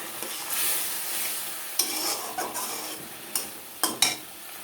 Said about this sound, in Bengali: সেই মশলাটা দিয়ে ভালো করে কষিয়ে নেব